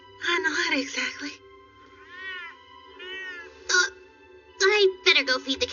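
Several cats meow in a home setting, drawn-out whining calls near and clear, separated by short gaps and mixed with bits of speech.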